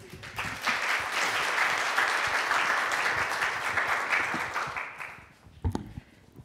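Audience applause at a university provost forum on fundraising and philanthropy: sustained, dense clapping from a room full of people, steady for about five seconds before fading, followed by a few isolated bumps.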